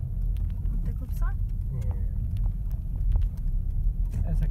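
A car driving along a residential street in the Netherlands, a low steady engine rumble heard close by under people chatting.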